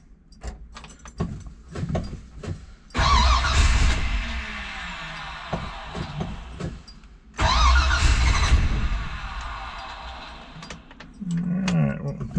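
A 1965 Pontiac GTO hardtop is cold-started twice: key clicks and jangling, then two cranking bursts of several seconds each that fail to catch, with light handling sounds between attempts.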